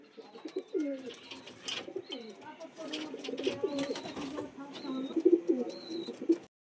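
Fullshira bloodline pigeons coo in a loft, soft repeated throaty coos close by, mixed with people talking in the background.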